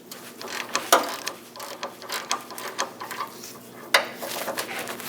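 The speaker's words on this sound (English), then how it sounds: "Using a 21mm socket, remove the 2 bolts." A ratchet with a 21mm socket loosens bolts on a Chevrolet Express 2500 van, producing close, quick metallic clicking in short bursts with a couple of sharper clanks, no voices.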